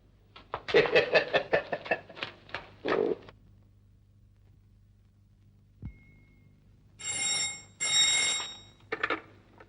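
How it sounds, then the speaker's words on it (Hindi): An electronic alarm clock rings in repeated bursts of bright beeping, pauses, then sounds again in longer buzzing stretches, close and fairly loud. "कब से अलार्म चिल्ला रहा है?"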